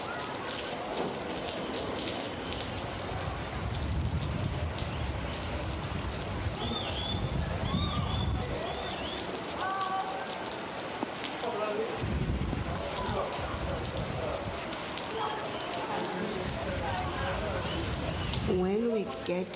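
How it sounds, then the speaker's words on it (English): Steady rain falls in Johannesburg, a dense, even hiss of drops that runs throughout, with voices and faint chirps heard over it. "It does rain there too."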